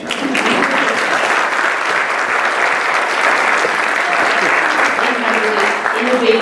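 An audience at a board of education meeting applauds an award recipient, a middle school language arts teacher, in a loud, sustained wash of clapping with a few voices mixed in.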